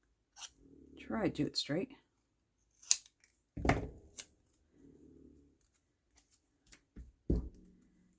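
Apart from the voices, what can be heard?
scissors snipping across the back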